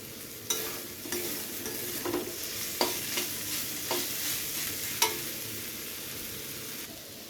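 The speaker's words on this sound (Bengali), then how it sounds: "তো আদা আর রসুন কিন্তু আমার পেঁয়াজের সাথে খুব ভালোভাবে কষিয়ে নেওয়া হয়ে গেছে" Onion, ginger and garlic stir-fry in hot oil in a pan for a fish dish, a continuous sizzle punctuated by repeated scraping strokes of a spatula, close and fairly loud with no voices.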